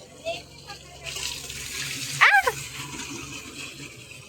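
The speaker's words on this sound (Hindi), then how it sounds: "इसमें से पानी निकल गया" Water rushing out of a pipe at home, a steady hiss of flow that starts after a moment and runs on, with a sharp splash or knock midway and children's voices around it.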